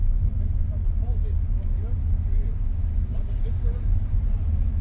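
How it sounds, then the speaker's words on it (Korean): A bus engine rumbles steadily at close range in Morocco's Todra Gorge, a low continuous drone with faint chatter and scattered higher sounds above it. "그 버스가 여기까지 들어오네."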